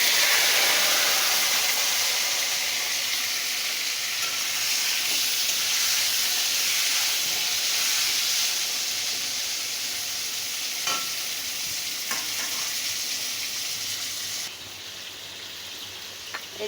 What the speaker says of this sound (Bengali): এটা এখন একটু ভেজে নেব